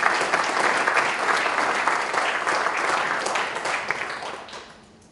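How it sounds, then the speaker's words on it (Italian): Audience applause for a guest at an Italian talk event, a dense sustained wash of clapping that holds steady and then tapers off toward the end, with no talking over it. "Un applauso per il buon Antonello"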